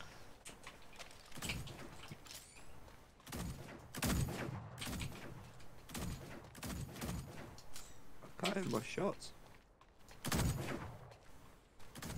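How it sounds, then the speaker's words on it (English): Sniper and other gunfire in a video game cracks out in repeated sharp, loud bursts at irregular intervals, mixed with scuffling movement and a voice talking throughout. "I'm getting sniped at from somewhere"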